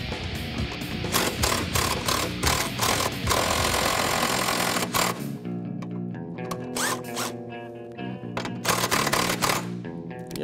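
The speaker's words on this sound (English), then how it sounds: "We'll start by loosening up the two bolts here that connect the subframe to the body." Loosening the rear subframe-to-body bolts on a 2015-2023 Ford Mustang GT: loud, close bursts of rapid mechanical ratcheting and whirring, repeated in short runs with brief gaps between.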